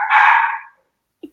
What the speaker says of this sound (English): I apologize to the audience for my loud dog